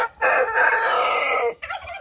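An Isabelle-coloured rooster crows once, loud and close, in a single sustained call that cuts off abruptly before a short, softer trailing note.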